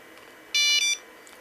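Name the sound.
Nokia 5165 phone ringtone playing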